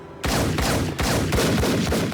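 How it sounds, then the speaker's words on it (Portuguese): Heavy burst of gunfire from a shootout scene in The Matrix film, several loud booming shots in quick succession with rumbling echoes, close and dense, no talk. "E após levar um tiro, ele leva muitos tiros."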